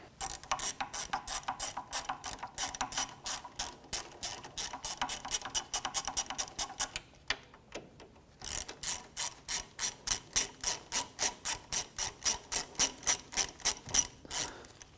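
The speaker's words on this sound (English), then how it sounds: "now we'll switch over to a ratchet" A ratchet loosens the hub bolts on a 2007-2013 Acura MDX during a rear wheel bearing job, making fast, steady clicking runs close up that pause briefly midway and then resume in an even rhythm.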